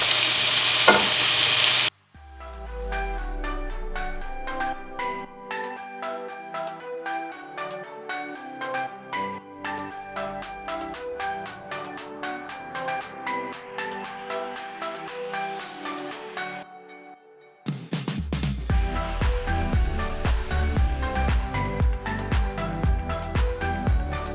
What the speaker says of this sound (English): I'm going to saute the onions and peppers